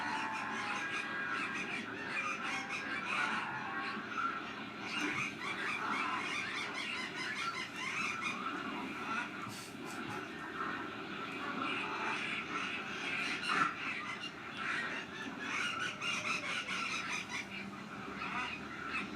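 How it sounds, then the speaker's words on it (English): Dense, steady bird calls fill the whole stretch: harsh squawks and caws mixed with chirping, a busy flock heard at moderate distance with no talk. "The sound of angry birds squawking and chirping comes from the agora."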